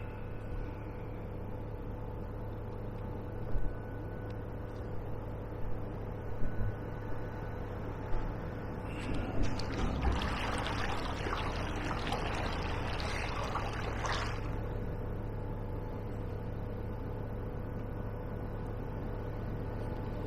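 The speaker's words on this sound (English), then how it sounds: "You hear the whoosh of the water." Water whooshes and swishes against an inflatable stand-up paddleboard fitted with a battery-powered E-Fin on still, windless autumn water, building into a louder rushing burst midway over a steady low hum.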